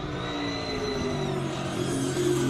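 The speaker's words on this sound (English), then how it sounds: "It is the BMW Z4M LS V8 Power." A BMW Z4 M fitted with an LS V8 powers up a hill climb course, its engine a steady, droning roar with a gently rising pitch, heard from middle distance over crowd ambience.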